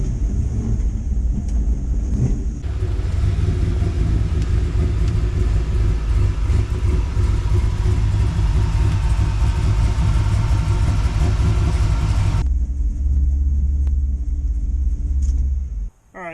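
Chevrolet squarebody pickup truck idles with a low rumble, then revs louder and moves off in a steady engine drone for about ten seconds before dropping back to idle, close by.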